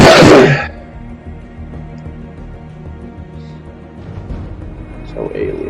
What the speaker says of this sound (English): now I'm getting the sneeze